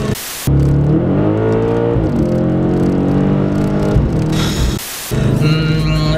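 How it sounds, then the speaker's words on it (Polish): An Audi RS 5 Cabriolet with a naturally aspirated 4.2 FSI V8 revs up and down through its twin dual exhaust tips, loud and close, with a couple of harsh noisy bursts breaking in. "strzały z wydechu, które można tutaj usłyszeć"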